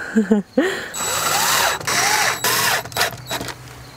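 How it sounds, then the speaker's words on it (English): A drill drives screws into PVC door trim in several short bursts whose motor whine rises and falls in pitch, loud and close, with a brief voice at the start. "I'm also starting all the screws while this is horizontally"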